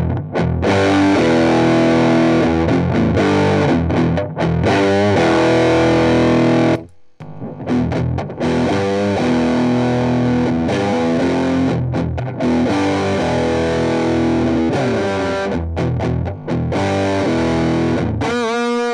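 Bass guitar played through a Big Muff fuzz distortion pedal with tone set around ten o'clock, a loud, thick, saturated fuzzy tone sustaining continuously with a brief gap midway, no talking.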